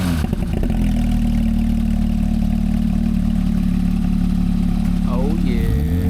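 A Porsche 911 GT3 flat-six, either a 997.2 with the Mezger engine or a 991 with the 9A1, cranks, catches and settles into a loud, steady, deep idle close by, with brief voices near the end.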